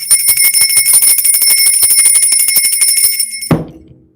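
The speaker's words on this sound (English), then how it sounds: "Where is my motherfucking bell?" A bell rings loud and close in rapid repeated strikes with steady sustained metallic tones for about three and a half seconds, then stops abruptly with a final clunk and fading decay.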